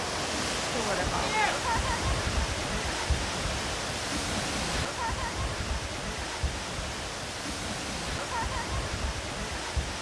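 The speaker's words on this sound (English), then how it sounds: "The waterfall." Steady, dense rush of a waterfall in Oregon's Columbia River Gorge waterfall corridor, heard from a bridge, fills the whole stretch, a constant roaring wash with no break.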